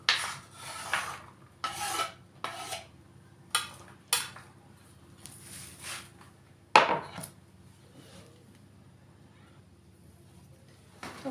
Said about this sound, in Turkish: patateslerimi de doğruyorum arkadaşlar